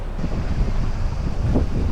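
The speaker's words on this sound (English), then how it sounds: "The gusts came in strong" Strong wind gusts buffet the microphone in a low, heavy rumble aboard an anchoring boat in Croatia, with the wash of water close by.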